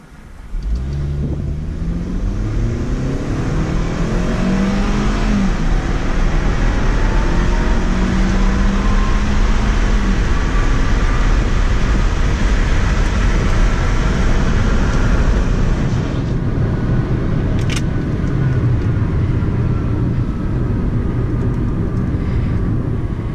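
A 2015 Hyundai Sonata SE in sport mode pulls away from a dead stop, its engine rising loudly through several climbing, shifting tones inside the cabin before settling into a steady road roar.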